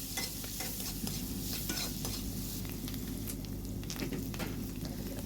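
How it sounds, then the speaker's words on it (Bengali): Capsicum pieces frying in a pan with cumin before salt goes in, a continuous near sizzle broken by frequent spatula scrapes and stirs, with no voices. "ক্যাপসিকামটা হালকা ভাজা হয়ে এলে এর মধ্যে নুন দেবে"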